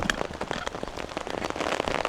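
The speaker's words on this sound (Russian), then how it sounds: "Дождь пошел." Rain just starting to fall outdoors, a dense close patter of drops hitting surfaces nearby, steady and crackly throughout with no talking.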